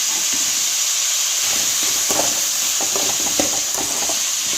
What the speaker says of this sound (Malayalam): ഉപ്പും കൂടി ഇട്ടിട്ട് നമുക്ക് നന്നായിട്ടൊന്ന് വഴറ്റി എടുക്കാം